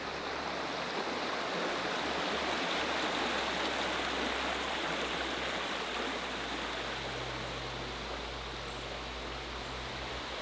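A murky river swollen after a night of rain flows steadily beside an off-grid cabin, a dense, unbroken rushing roar filling the scene with no voices.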